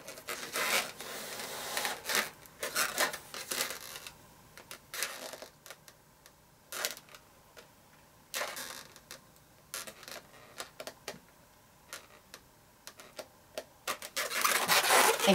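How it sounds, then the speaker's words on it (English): A black marker coloring in the eyes on a balloon, producing repeated squeaky rubbing strokes against the latex in short bursts with pauses between, close and clear. "And then go back with your black marker."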